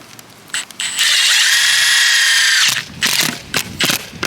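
A power drill whirs steadily for about two seconds, driving a screw into a shingle roof flange for an electrical service, framed by short mechanical clicks and handling knocks before and after.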